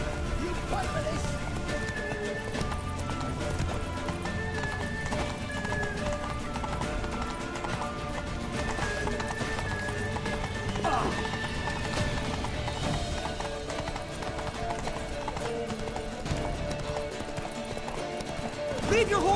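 Horses gallop with dense clip-clop hoofbeats and occasional whinnies in a battle scene from the video game The Witcher 3, continuous and mid-distance under shouting voices.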